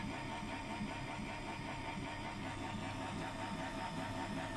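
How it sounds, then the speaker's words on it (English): An Ultratec faceting machine cuts concave facets into a citrine gemstone with an 8mm copper cylinder charged with 3000 grit diamond paste, giving a steady, even motor hum and whir that runs unbroken throughout with no voices. "Next, we create the concave facets on the Ultratec fantasy machine, using an 8mm copper cylinder and 3000 grit diamond paste."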